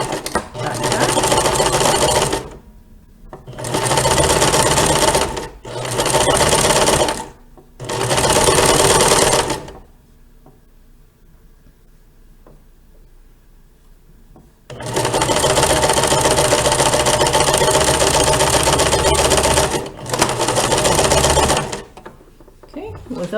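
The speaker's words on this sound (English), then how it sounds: "the outside seam gets sewn first" Sewing machine stitching the outside seam of a fabric face mask, running in loud steady bursts of a few seconds each, with a quiet pause midway and no talk.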